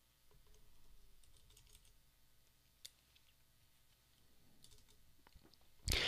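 Keys being typed on a computer keyboard, quiet uneven clicking in short bursts, close and soft, with one louder tap in the middle and a sharp clunk right at the end.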